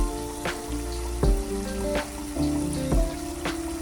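Chicken Bicol Express sautéing in a pan, a steady sizzle with periodic scraping stirs roughly every half second to second, close and moderately loud, with a faint tonal backdrop.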